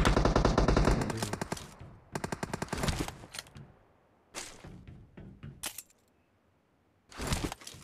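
Gunfire from the PUBG video game comes in loud automatic bursts of rapid rattling shots broken by short pauses, with a few single cracks and a final burst, close and dominant.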